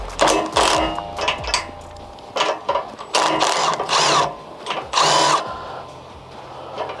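An impact wrench running in reverse to back out a 7/16 bolt on a roll-off truck tarp system, firing in repeated loud, rattling bursts with short pauses between them, close up.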